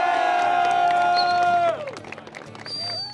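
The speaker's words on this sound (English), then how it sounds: "So can we get a big round of applause for all the teachers out here?" At a Blue Collar Tour event at Western Welding Academy in Springtown, Texas, a crowd cheers and applauds the teachers. A long held whoop gives way to scattered clapping and shouts, with a second high cry rising near the end.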